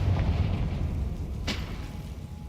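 Confringo blasting spell in Hogwarts Legacy, a loud rumbling boom with a sharp crackling burst partway through, fading slightly toward the end.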